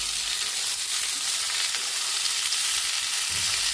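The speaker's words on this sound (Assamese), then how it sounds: "এতিয়া মই ভেন্দিকেইটা অকণমান জুইটো বঢ়াই দি কিনে ভাজি ল'ম" Okra frying in a pan, a loud close continuous sizzle with a faint stirring scrape near the end, no talking.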